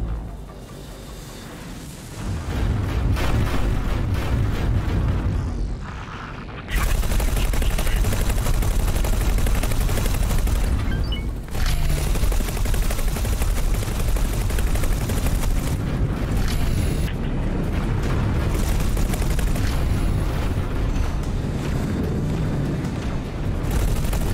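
Ship turrets in the space simulator X4 Foundations fire in dense, rapid bursts like machine-gun volleys with booming impacts, loud and sustained for over twenty seconds, broken by a few brief pauses.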